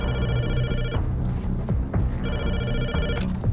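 A phone rings out while a call is placed in a video game, two repeated bursts of a bright electronic ring separated by a short pause, clear and close with no talk over it.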